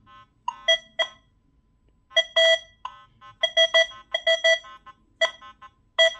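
A Nokta Legend metal detector sweeps over a small button among iron targets, its tone relayed by Bluetooth to a phone: clusters of sharp electronic beeps in short repeated bursts, clear and close, with no talking.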